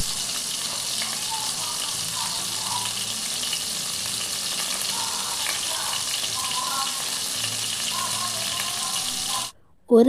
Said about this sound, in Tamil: ஆயில் நல்லா ஹீட் ஆகினதுக்கப்புறம் மிக்ஸ் பண்ணி வச்சுருக்கிற ப்ரான்ஸை வறுத்துக்கலாம்